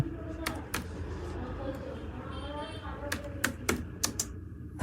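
A computer keyboard clacks in scattered bursts of sharp keystrokes, with one quicker run of taps near the end, set against a low background hum and some nearby talk.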